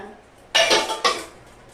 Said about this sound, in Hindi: सारे बर्तन वगैरह रख लूँ अच्छे से।